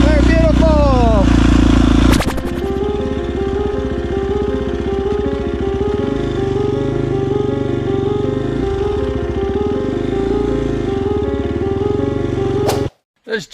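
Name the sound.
Husqvarna 250 dirt bike engine riding through muddy jungle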